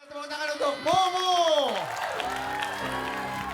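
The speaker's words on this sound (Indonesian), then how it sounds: "Tepuk tangan untuk Momo." A studio audience at a comedy festival show applauds, a broad wash of clapping and crowd noise lasting a few seconds alongside a host's voice and musical tones.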